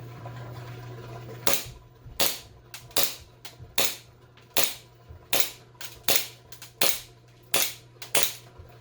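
An airsoft pistol fires about eleven sharp, loud shots close by at a fairly even pace, each a crisp snap with a short decay over a low background hum.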